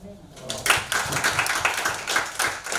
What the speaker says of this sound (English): Give a big round of applause to Sonika and Devyani